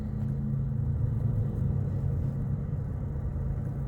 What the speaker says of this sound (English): Excuse the background noise. I happen to be parked by somebody mowing the lawn